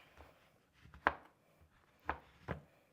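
A knife chops a block of chocolate into chunky pieces on a board, three sharp distinct thuds spaced about a second apart, close and quiet otherwise.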